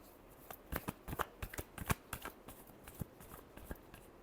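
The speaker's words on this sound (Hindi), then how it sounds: "last shuffle" Tarot cards shuffled by hand, a rapid run of crisp, close riffling flicks and slaps with brief pauses between bursts, quiet and with no talking.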